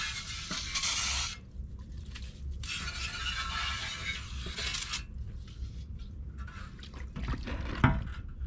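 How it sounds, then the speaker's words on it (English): Remaining transmission fluid from a Winnebago RV draining into a pan, a steady broadband liquid pour with a few brief pauses and faint metallic clinks near the end, no talking. "I'm just going to drain the remaining of the transmission fluid into here."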